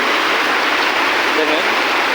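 Heavy afternoon rain pours down in a dense, steady roar of falling water, loud and close, with no break across the short stretch.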